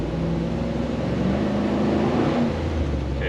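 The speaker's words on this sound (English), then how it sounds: "Let's do a downshift." A car engine revs steadily through a downshift, a continuous mid-pitched drone with a brief rise in tone near the end, close and alone.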